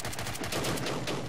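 Sniper gunfire in the video game Angels Fall First comes as a fast series of sharp shots, rapid and fairly close, forming a dense crackling volley with no voices over it.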